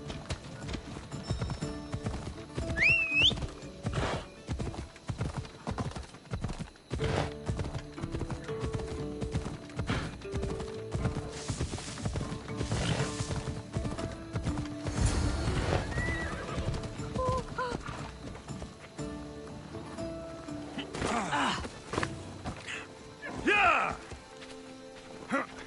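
Horse in the video game Assassin's Creed Odyssey, galloping with steady clip-clop hoofbeats and letting out whinnies, heard amid game music and ambience, with voices talking at moments.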